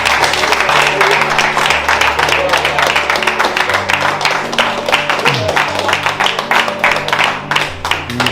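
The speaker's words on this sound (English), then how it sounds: "Alright, we'll give her a round of applause." Applause for a donor during a charity kitchen appeal, rapid steady clapping from a small group running throughout, mixed with sustained musical tones underneath.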